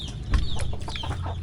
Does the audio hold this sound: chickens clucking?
yes